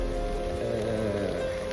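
Steady rain falling during a flood in Jaffna, a continuous wash of drops with a low rumbling layer underneath, moderately loud and constant throughout.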